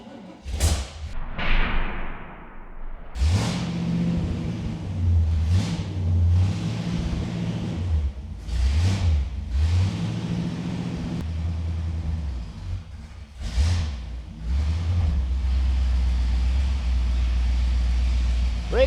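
An old V8 engine in a 1972 Corvette cranks, coughs to life and revs in repeated bursts, loud and close, settling into a rough, throaty idle.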